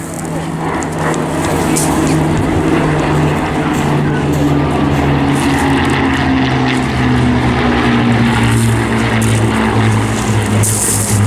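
A vintage propeller aircraft formation flies past at an airshow, its engines making a loud sustained drone whose pitch slides slowly downward as the planes pass, with faint crowd or commentary noise mixed in.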